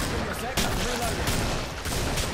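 Continuous rumbling explosions and gunfire-like bursts in the video game Killing Floor, dense and loud, with a sharp blast about halfway in.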